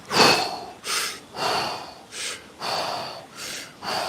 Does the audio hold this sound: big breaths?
yes